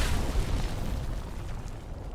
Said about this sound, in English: Shade's tank will get blown up from the Sparks satchel